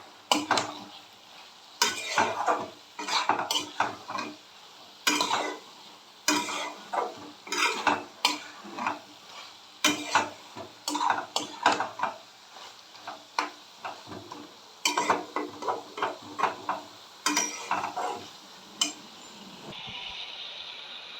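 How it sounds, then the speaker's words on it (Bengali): Beef fat frying with spices in a pan, stirred hard with a metal spatula: repeated sharp scraping and clanking strokes in irregular bursts over a soft, steady sizzle, close and alone with no talking. "একটু ভালো করে এখন কষে নেব।"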